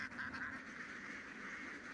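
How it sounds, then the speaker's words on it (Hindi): A large flock of ducks foraging in rice paddies gives off a dense, continuous chorus of overlapping quacks and honks at steady loudness, with no speech. "अपीवात के पास बतखों के ऐसे 4 झुंड हैं, जो इस प्रांत के अलग अलग खेतों में घूमते रहते हैं।"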